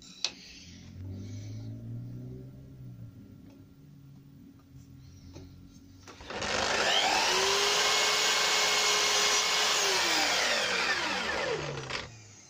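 A saw cuts a mitre through wooden beading: a loud, steady sawing sound starts midway and runs about six seconds at close range, after a quieter stretch with faint workshop noise.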